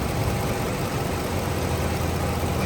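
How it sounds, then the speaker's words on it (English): A Chrysler 300 Limited engine idles steadily at close range, a continuous low rumble with an even hum and no talking over it. "You can hear the engine."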